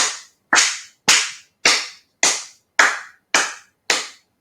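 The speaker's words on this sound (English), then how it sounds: "they start clapping" Hands clap eight times in a steady, evenly spaced rhythm, each clap sharp, loud and close, with no voices.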